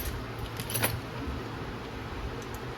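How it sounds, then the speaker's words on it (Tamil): Metal keys clinking as an Allen key is picked out of a tool kit for fixing a broken fan on a Creality Ender 3 3D printer, a brief rattle of small jangles near the middle over a low background hum. "நம்ம டூல் கிட்டில் வந்து கரெக்டான அதோட ஆலன் கீ வந்து பார்த்து செலக்ட் பண்ணி எடுக்கணும்"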